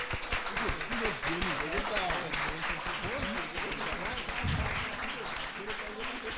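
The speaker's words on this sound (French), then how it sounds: "Très applaudis nos gladiateurs des temps modernes dans cette arène des champions." An audience in a TV quiz show studio applauds the contestants with a steady, sustained wash of clapping, and a host's voice talks over it.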